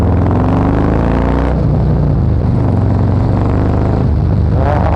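Harley-Davidson Fat Boy Special motorcycle fitted with a Supertrapp variable exhaust, heard while riding; a loud, continuous engine roar with rising and falling revs, close to the rider, with no talk.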